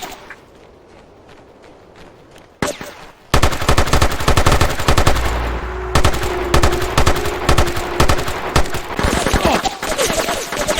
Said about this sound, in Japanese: ターゲットに発砲する。